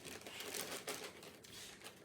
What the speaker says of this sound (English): And I apologize for the plastic sound.